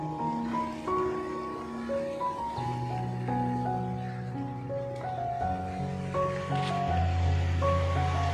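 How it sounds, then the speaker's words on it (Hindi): Water flows steadily through a canal beneath an old British-era bridge in Daska, Pakistan, a continuous broad rush that stays loud and close throughout, mixed with tonal hum and background noise. "तब पानी का बहाव देखें जी"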